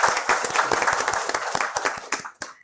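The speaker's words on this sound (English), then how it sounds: "Let's have a huge round of applause." Applause from a conference audience at a skills summit, a dense burst of many hands clapping that thins out and fades over a couple of seconds.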